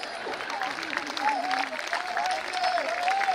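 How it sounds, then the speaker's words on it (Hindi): Audience applause fills a comedy show hall, a steady wash of clapping that runs throughout while a voice talks and rises over it in places. "आपकी तालियां बता रही है कि आपकी पत्नी भी घर में मनोरंजन ऐसे ही कर रही है"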